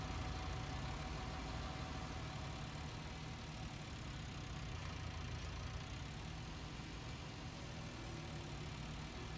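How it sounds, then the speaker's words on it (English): Telehandler engine in Farming Simulator 19 running continuously at a steady idle, a constant low rumble and hum that never changes across the whole stretch. "So we hop over here in our telehandler"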